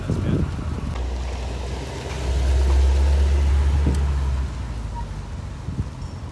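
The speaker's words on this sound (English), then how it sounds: "I've never ever driven a C4 Corvette, so this is definitely an experience, a real treat" Engine of a 1988 Chevrolet Corvette C4 on the road, a steady low rumble with wind noise that swells louder in the middle, then settles back.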